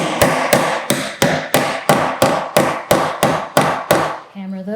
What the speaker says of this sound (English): Hammer those in, and finish the other one